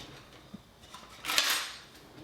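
A teaspoon stirs powdered cashews with water in a bowl, a short bright scraping clatter of metal against dish building after a couple of faint taps, then fading out.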